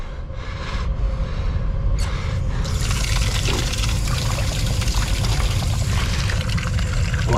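Water pours from a bottle in a steady, close trickle that grows fuller and louder after a few seconds, running continuously under outdoor noise.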